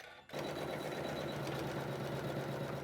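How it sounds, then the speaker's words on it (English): An embroidery sewing machine stitches fabric onto water-soluble stabilizer, starting abruptly and then running as a steady, rapid mechanical whir and buzz, close and continuous, with no talk. "it's gonna stitch that fabric directly to the water-soluble stabilizer"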